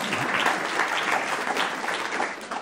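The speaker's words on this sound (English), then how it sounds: "maybe you can clap" An audience at a conversation event with an investigative reporter claps steadily and densely throughout, a close, sustained burst of applause with no talking over it.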